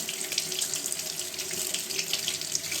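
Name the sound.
rinsing makeup brush under running tap water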